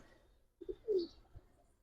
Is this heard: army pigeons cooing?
yes